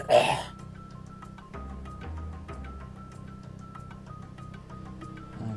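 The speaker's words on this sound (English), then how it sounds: "That coughing is not me for once." A person gives a single short cough or throat-clear, loud and close, then a low steady hum and faint clicks continue with no talk.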